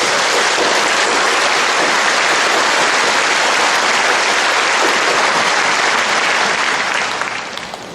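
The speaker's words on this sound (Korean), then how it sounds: "이 행사를 하기까지 수고해 주신 모든 분들께 우리 격려와 감사의 박수 한번 드립니다." A large church congregation at a Legio Mariae faith gathering breaks into loud, sustained applause, thick and continuous like heavy rain, which holds for about seven seconds before tapering off.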